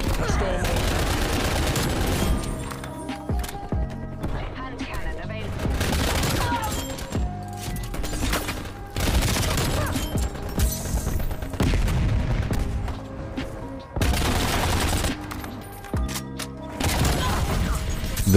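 Bursts of rapid gunfire from a fully automatic EM2 assault rifle with a built-in low zoom optic in a video game, firing slower than a Man-O-War, loud and repeated in several strings over a dense game soundscape.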